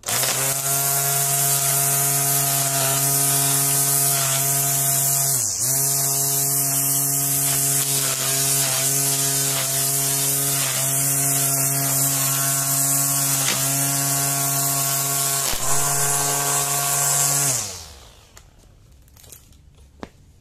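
Tekiro CD GT2073 cordless grass trimmer on the XV20 battery system, spinning its nylon string in a steady high whine with brief dips as it cuts grass, then spinning down and stopping near the end.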